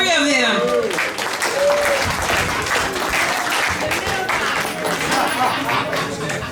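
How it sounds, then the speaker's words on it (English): Comedy festival audience applauding loudly and steadily for several seconds, a dense wash of clapping with scattered cheers and crowd noise. "Let's clap up for all 3 of them."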